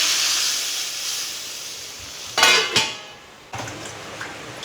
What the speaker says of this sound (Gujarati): તો હવે આપણે કઢીનો વઘાર કરી લઈએ